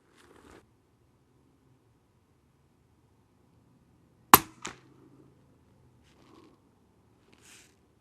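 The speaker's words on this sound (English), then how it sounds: "Let's see what these 5 rounds will do from the Sig Marksman." Two suppressed 300 Blackout subsonic rifle shots from a Sig Marksman ring out as sharp, close cracks in quick succession, set against an otherwise quiet outdoor background.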